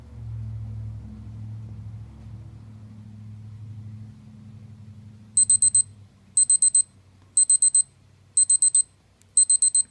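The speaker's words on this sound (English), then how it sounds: "when it goes off, it's going to sound an alarm for 10 seconds." A Casio digital watch timer alarm beeps in repeated rapid bursts of high chirps, following a low rumbling engine-like hum that fades out.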